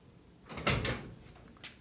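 The driver door of a 1968 Dodge Dart fitted with a race car latch opens with a short mechanical clack and rattle at close range, followed by a faint tap.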